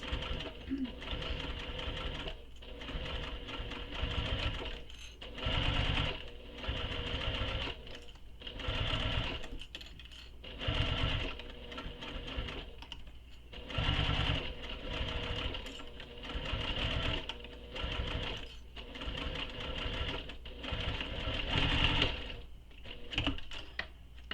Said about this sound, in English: sewing the outer edge using the seam allowance given in the pattern